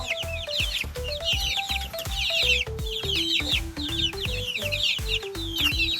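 A young chick peeps in quick, high repeated chirps, close and fairly loud, over a steady melodic music backing that steps up and down in pitch.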